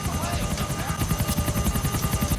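Helicopter rotor chopping steadily and loudly throughout during an aerial pursuit in the final mission of a Grand Theft Auto video game, with a fast, even thump and engine whine.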